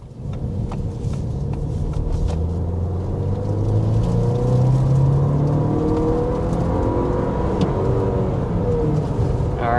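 A 2026 Audi Q5 accelerates hard toward 60 mph, a loud, steady engine roar and road rumble building as the pitch climbs and sweeps upward, heard from inside the cabin with no talking.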